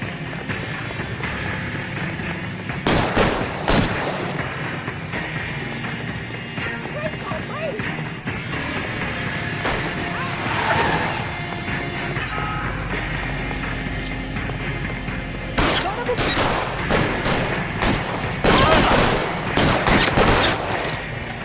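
Gunshots ring out in the L.A. Noire video game, with sharp isolated cracks early on and denser volleys of fire toward the end, set against steady game ambience and intermittent talking.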